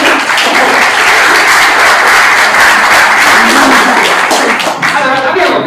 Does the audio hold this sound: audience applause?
yes